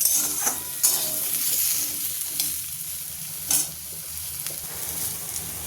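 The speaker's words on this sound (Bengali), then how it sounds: "এই সবজিগুলোকে যত লাল লাল করে নাড়াচাড়া করবে তত খেতে ভালো লাগবে" Vegetables stirred and fried in a hot kadai for a Bengali fish curry meal sizzle steadily, with sharp scraping strokes of the spatula at intervals.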